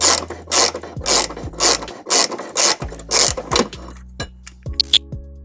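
A hand ratchet with a 17mm socket on an extension turning a bolt on a 1998 Subaru Forester during a trailer hitch install, bursts of rapid close clicking with short pauses and faint metallic knocks.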